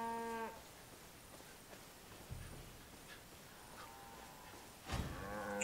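A cow in the Far Cry 5 video game moos loudly in a few drawn-out calls, with a quieter outdoor ambience between them and no talking.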